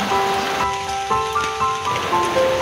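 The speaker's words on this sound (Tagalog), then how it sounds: "Dahil sobrang lakas talaga ng ulan dito." Heavy rain with wind on an island in Northern Samar, Philippines, hisses steadily on surfaces, a dense wash of drops with faint tonal notes layered over it; continuous and close.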